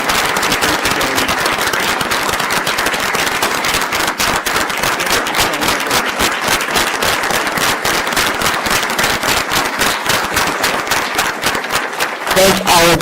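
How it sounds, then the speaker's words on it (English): Sustained applause from an audience at a school district board meeting, a dense steady patter of many clapping hands filling the whole stretch with no break, with a brief voice near the end. "we'd like to give them a round of applause"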